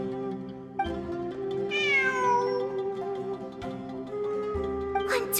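In Genshin Impact, a game cat gives a single clear, wavering meow near the middle, close and fairly loud over a low steady ambient drone, with a few faint clicks around it and no speech.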